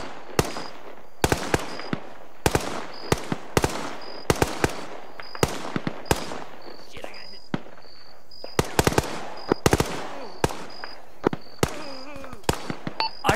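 Repeated sharp gunshots and bursts of automatic fire in the military shooter game Arma 3, crackling close and loud in irregular volleys throughout, with sporadic faint radio-like talk between shots.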